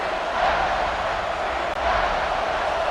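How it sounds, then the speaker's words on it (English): A football stadium crowd at an Iowa Hawkeyes versus USC Trojans college game roars steadily for the home defense in a red zone stand, a dense, loud, unbroken wall of cheering. "This crowd is trying to inspire this defense to make a big red zone stop"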